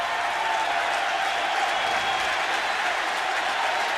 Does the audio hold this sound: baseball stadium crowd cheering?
yes